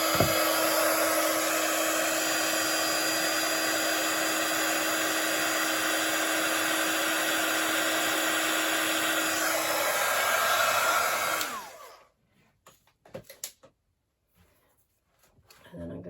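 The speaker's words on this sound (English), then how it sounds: "I'm just going to blast that with some heat." A heat tool blows hot air onto punched paper shapes in a steady, loud whoosh that runs for about eleven seconds, then cuts off sharply, leaving only faint handling clicks and rustles.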